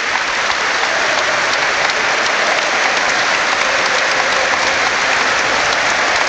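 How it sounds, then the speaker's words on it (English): A large football crowd at a Liverpool home match against Bournemouth claps loudly and continuously, a dense, even wash of applause with no break. "The crowd are applauding for Konate at the back on the halfway line."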